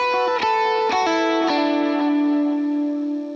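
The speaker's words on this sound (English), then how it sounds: "the first thing that I want to go over are those pickup notes. It's kind of that main riff" Electric guitar plays the pentatonic pickup-note riff of a song in D, a few quick picked notes through effects with chorus and slight distortion, ringing out into a sustained final note.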